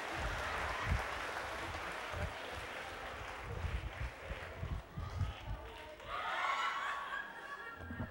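Audience applause swells and fades across the whole stretch, a dense patter of clapping with a few voices and low bursts of chatter or laughter mixed in.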